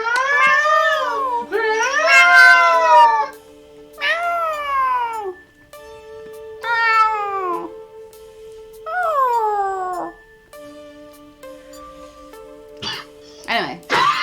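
A cat howls in the background, repeated long drawn-out yowls that bend downward in pitch, about half a dozen over fourteen seconds, loud and close with brief gaps between.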